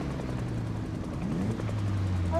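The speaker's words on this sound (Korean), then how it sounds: "무슨 헬기 소리가 나냐?" A helicopter in a zombie survival game drones steadily overhead with a low rotor hum, a sustained mechanical rumble at moderate distance throughout.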